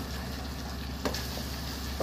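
Tomato curry being stirred in a hot pan, with a steady low sizzle throughout and a few faint scraping touches of the spoon near the middle and end.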